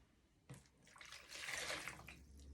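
Water pours into a measuring container filled to the 300 ml mark, starting with a sudden splash and building to a steady, hissing trickle that swells in the middle and then eases off, close by with no talk.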